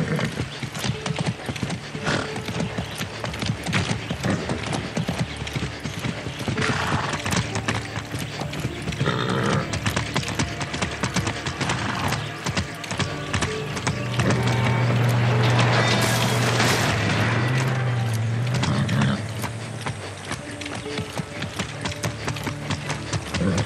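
Steady clip-clop of horse hooves with a horse whinnying in the video game Far Cry 6, over a dense, busy background; no talking.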